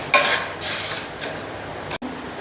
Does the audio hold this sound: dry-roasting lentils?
yes